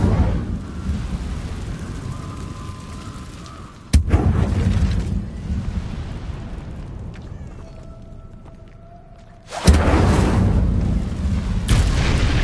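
Incendio fire spell cast in Hogwarts Legacy, two loud sudden whooshing bursts of flame that erupt abruptly and roar on, with a quieter lull between them.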